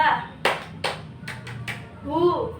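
A few sharp hand claps ring out in a loose sequence, fairly close, followed by a brief voice.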